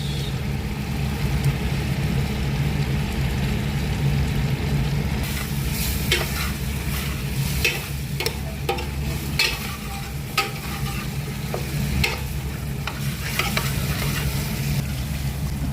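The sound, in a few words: tomato paste stirred into frying spiced chicken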